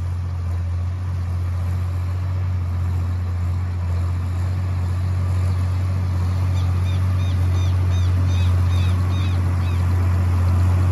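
A farm tractor pulling a lime spreader across a field gives a steady, deep engine drone that holds at a constant level throughout, close and unbroken.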